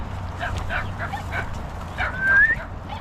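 A puppy whimpers and yips in short, high bursts over a steady low background hum, with a rising whine near the end, heard outdoors by a river among water spinach.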